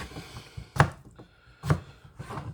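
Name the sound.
knife cutting eyes and dark spots out of potatoes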